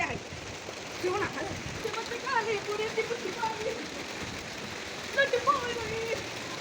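Rain falling outdoors on a soaked surface, a soft steady patter close by while people talk and call out over it.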